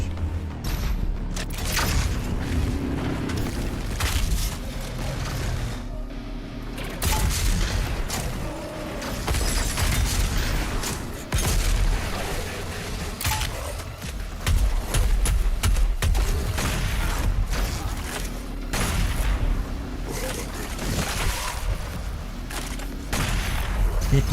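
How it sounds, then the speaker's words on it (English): Sustained rapid gunfire from a Gatling gun in the first-person shooter Doom Eternal, dense and continuous with heavy booms and mechanical clatter throughout, while a person talks over the game action. "That's a Gatling gun,"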